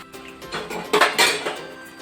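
Fish pieces are turned over one at a time in a metal frying pan, giving a few close clinks and scrapes of a utensil against the pan, alone with no talk.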